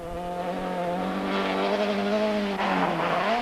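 A BMW rally car on a Tour Natal stage drives past with its engine misfiring, a loud, close, rising engine note that peaks and drops sharply as it passes, with a hint of tyre noise.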